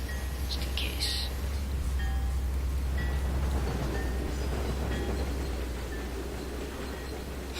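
A train in a Trainz train-simulator video game rumbles steadily along the tracks with a low, continuous drone and faint clicks, some high chirps scattered above, no talking.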